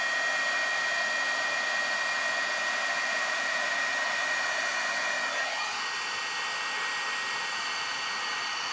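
Handheld heat tool melting embossing powder on ordinary vellum, a steady close-up blowing whir that runs throughout and drops slightly in pitch partway through.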